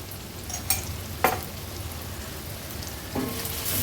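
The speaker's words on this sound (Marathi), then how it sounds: "कांदा व्यवस्थित तेलामध्ये परतून घेते" Onion fries in oil with ginger-garlic paste, a soft steady sizzle close by, with a few sharp stirring clicks and scrapes breaking through now and then.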